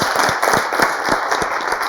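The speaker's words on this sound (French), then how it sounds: "Applaudissements pour Doden." A live audience at a café stage show gives sustained, dense applause that stays at an even level for about two seconds, with no speech over it.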